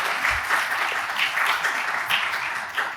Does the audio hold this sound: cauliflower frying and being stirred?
no